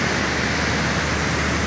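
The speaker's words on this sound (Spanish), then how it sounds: "es increíble, amigos, la cantidad de agua que está bajando, muy sucia" Muddy floodwater rushing downhill after heavy rains beside the Alóag–Santo Domingo road at kilometre 56, where the ground is washing out; a steady, loud, broadband roar with no breaks.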